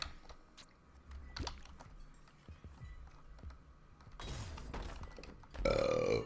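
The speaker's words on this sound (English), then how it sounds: "Burps are gonna happen." A man eating extremely spicy food while playing a video game lets out a single loud burp near the end, after quieter bursts of game sound and muffled noise.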